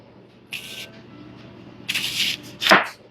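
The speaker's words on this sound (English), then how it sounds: "Same with onions. I'll just cut them in rings." Knife slicing onions into fairly thick rings on a cutting board, a few short crisp cuts with quiet pauses between, close by and moderately loud.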